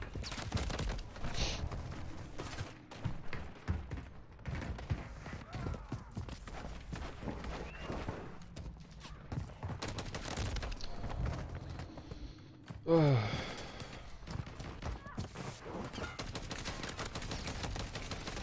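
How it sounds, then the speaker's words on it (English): In a video game, a Sidewinder gun fires repeated rapid shots in ragged bursts, with clattering sounds mixed in, and the bursts keep recurring across the stretch. "Oh, it's a Sidewinder. This is the worst gun in the game by far."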